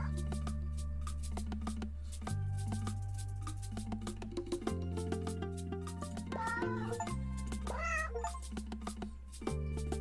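Cartoon cat meows pop up over a looping game soundtrack as cats are clicked in 100 Cats, a few short rising mews partly buried under steady synth notes and light percussion.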